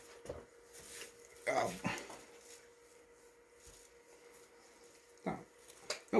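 A dog whimpers and yips faintly in a quiet room, a few short soft whines scattered across the stretch, close but low.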